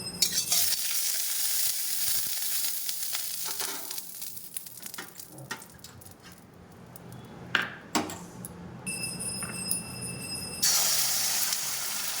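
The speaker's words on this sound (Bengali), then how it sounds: "ডিমটা এবার ভেজে নেব।" An egg frying in hot oil in a wok, a loud continuous sizzle and crackle with scraping stirs and clinks of a metal utensil against the pan, and a bright ringing tone near the end.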